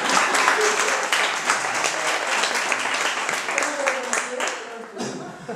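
Audience applause at a microtheatre book presentation, a dense patter of clapping from a crowd that runs steadily throughout with some murmuring voices mixed in, tapering slightly near the end.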